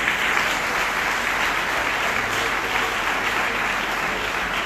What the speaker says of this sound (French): Il est bel applaudissement